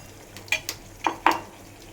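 A spoon scrapes and knocks through sabudana khichdi with peanuts in a pan on a low gas flame, four short distinct strokes over a faint background hum.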